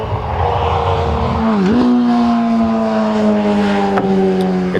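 Sport motorcycle passes close by with a loud, high-pitched engine whine whose pitch drops sharply as it goes past, then drones on steadily as it pulls away.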